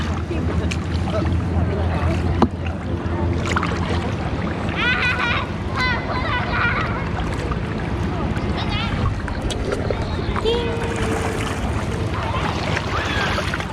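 A person paddles a boat on a river by a Kanchanaburi campsite, with water sloshing and splashing alongside wind noise and a low hum, while people chatter intermittently throughout.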